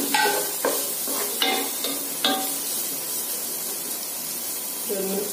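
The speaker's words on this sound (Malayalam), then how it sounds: "ഓയില് ചൂടായിട്ടുണ്ട്. നമുക്ക് അതിലോട്ട് സവാള ഇട്ട് കൊടുക്കാം." Two finely chopped onions drop into hot oil for chole bhatura, giving a brief series of stirring clatters and scrapes over a steady hissing sizzle.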